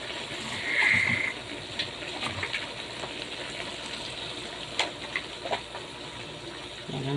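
Water poured or run into a cooking pan in a home kitchen, a soft gush near the start followed by faint splashes and small clinks at low level.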